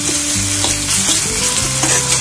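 Green coriander and ginger paste fries loudly in hot oil for a snack gravy, a dense continuous sizzle with steady crackle and faint stirring, no talking.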